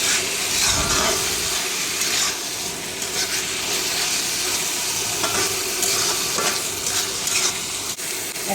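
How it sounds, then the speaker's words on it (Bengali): Dried fish fries with spices in a pan, giving a loud, steady sizzle with stirring scrapes throughout and no voices. "আগে মাছগুলো দিয়ে একটু মশলার সঙ্গে কষায় দেবো।"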